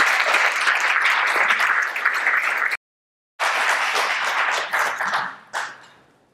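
A live audience applauds to welcome David Yeung onto the stage, steady dense clapping that breaks off for a moment of silence, resumes, then tapers away.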